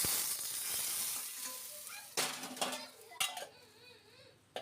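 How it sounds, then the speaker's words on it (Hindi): Hot oil sizzles loudly as garlic and chili are dropped into a pan for a dal tempering, with clinks of a metal spoon and utensils against cookware. "तो उसमें तड़का मार दे रही हूँ मैं"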